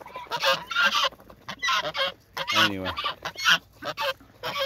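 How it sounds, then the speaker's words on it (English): Geese honk loudly and repeatedly nearby, agitated after having their wings clipped, a rapid run of harsh overlapping honks with someone briefly talking among them. "The geese are pretty upset."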